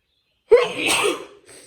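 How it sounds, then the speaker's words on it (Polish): A single sharp sneeze breaks out of silence indoors in a workshop, a close, loud burst with a breathy tail and a faint after-sound. "człowiek nie zdaje sobie sprawy, jak dużo czasu spędza na kichaniu"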